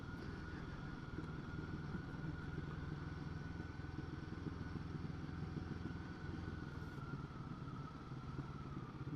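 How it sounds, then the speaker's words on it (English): A small motor digger engine arriving, a steady low mechanical drone with a rising whine, continuous and fairly close throughout with no talk. "Motor digger making an entrance."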